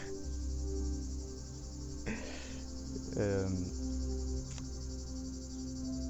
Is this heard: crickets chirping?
yes